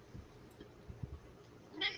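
A cat gives a short, faint meow or two indoors amid quiet background noise, briefly heard with no one speaking.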